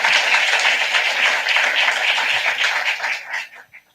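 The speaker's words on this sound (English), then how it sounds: "Yes, you can clap." Memorial mass congregation clapping after a donation is acknowledged, a brief steady burst of applause that thins and fades out near the end.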